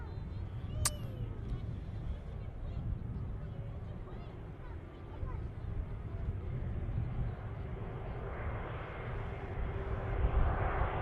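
A heavy airliner departs runway 23 at Manchester Airport, a loud, steady jet roar that swells toward the end, with people chatting over it.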